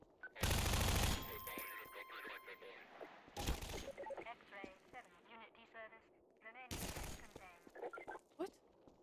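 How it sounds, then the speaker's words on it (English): Bursts of enemy gunfire in Half-Life 2 rake toward the player: a long loud broadband volley near the start, then two shorter sharp blasts, with steady talk running between and over the shots. "Who's shooting on me?"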